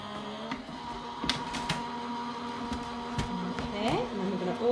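A hand-cranked die cutting machine feeds a metal-sided 3D cut and emboss folder through its rollers, giving a steady low mechanical grinding drone with a few clicks and knocks, close up in a quiet room.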